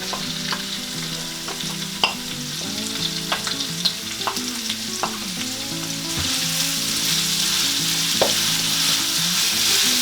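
Garlic and ginger fry in a pan of oil for Filipino dried beef: a steady, close sizzle with scattered pops and spatula clicks, growing hissier in the second half over faint background music.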